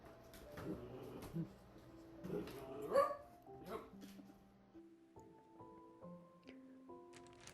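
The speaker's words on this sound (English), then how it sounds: "a throwback to Puppy Maya impersonating my inner child, expressing her frustration and not getting her way" A puppy barks and yips in frustration, short sharp bursts over the first few seconds with a whimpering tone, later giving way to steady tonal background sounds.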